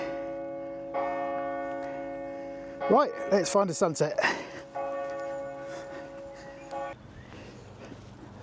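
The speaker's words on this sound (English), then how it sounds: "But the bells are currently giving it max." Church bells ring steadily and loudly in the distance while someone speaks briefly over them, the tolling continuing before and after his words.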